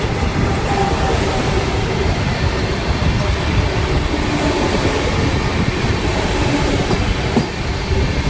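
A Vande Bharat Express train rushes past at a crossing, a loud, continuous roar of wheels and rails with steady clatter filling the whole stretch, very close.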